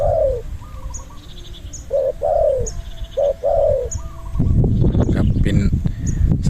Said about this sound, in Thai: นกน้อนนี่แหละ ขันอยู่ครับ